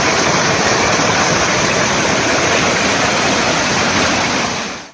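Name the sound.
streams and waterfalls flowing in forest after rain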